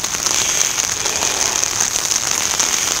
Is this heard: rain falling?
yes